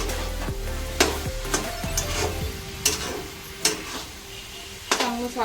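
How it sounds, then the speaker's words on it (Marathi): A coconut and sugar mixture is stirred over low heat in a pan, the spoon scraping in repeated strokes against a steady soft sizzle, with occasional clinks of metal. "मंद आचेवर आपण साखरेला हलवत राहायचं मिश्रणाला"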